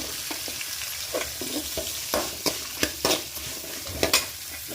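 Garlic and onion sizzle in a hot pan for mutton curry while a spoon stirs and scrapes through them, sharp clacking strokes popping up at uneven intervals over a steady frying hiss.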